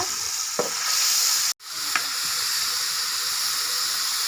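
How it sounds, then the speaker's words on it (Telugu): Crushed raw onions frying in a pan, a steady broadband sizzle with a couple of brief stirring clicks and one momentary dropout midway, close and continuous with no voices. "ఇందాక మనము కచ్చా దంచుకున్న ఉల్లిపాయలు ఈ విధంగా వేసుకొని మనము బాగా ఫ్రై చేసుకోవాలండి ఎర్రగా వేగాల"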